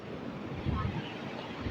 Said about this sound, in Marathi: सकाळ सकाळ फुडें कसली लाटा.